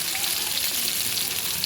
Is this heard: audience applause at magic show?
no